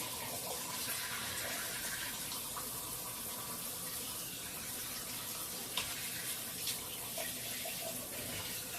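Water pours and splashes steadily in a home shower over a baby, a continuous hiss of running water with small splashy bursts and a couple of brief knocks, fairly quiet and with no talk.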